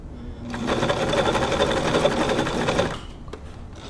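A Brother VX757 sewing machine runs a stretch stitch, a close, steady whirring hum with a rapid mechanical needle rhythm lasting about two and a half seconds before stopping with a click.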